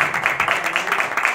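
At a live concert, the audience applauds a guitarist with brisk, close, rhythmic clapping that pulses evenly throughout the short burst.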